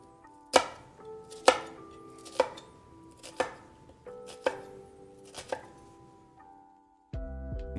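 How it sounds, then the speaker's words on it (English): A knife chops an onion on a cutting board using a rainbow cut for uniform pieces, about seven crisp, evenly spaced chops roughly a second apart. A duller, lower rumble starts right at the end. "you can get the most uniform pieces out of your onions by doing a rainbow cut for sure."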